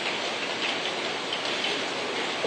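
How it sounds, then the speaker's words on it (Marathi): Heavy rain pours steadily, a dense, constant hiss of drops hitting surfaces, loud and close throughout with no voices. "पहा ना काय पाऊस आहे."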